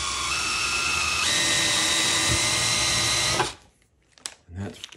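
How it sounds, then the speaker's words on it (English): A drill cuts a countersink chamfer on a hole during tap-and-die threading work, giving a loud, steady whine with rising pitch for about three and a half seconds before spinning down. Brief knocks and faint talk follow. "Now I'm going to put in a countersink."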